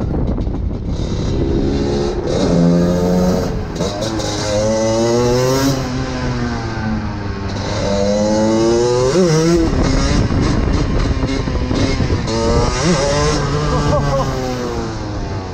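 A 125cc two-stroke motorcycle with modified ignition timing accelerates hard, its loud engine wailing up and down through repeated rising and falling revs, close to the listener throughout.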